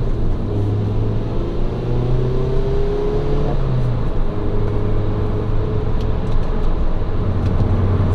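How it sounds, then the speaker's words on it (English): Steady low road rumble and engine drone from inside a car on coilovers cruising down a freeway, a constant close hum with no speech. "I'm driving down the freeway and this thing is totally smooth."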